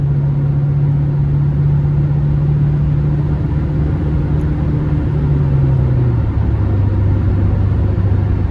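A 2000 Nissan Frontier XE Access Cab's naturally aspirated 2.4 liter four-cylinder pulls hard with a steady, droning engine note heard from inside the cab, then drops to a lower pitch near the end, with no voices.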